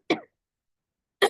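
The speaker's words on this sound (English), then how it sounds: "little bit of a cough there" A man gives two short, sharp coughs about a second apart, close and fairly loud with silence between them.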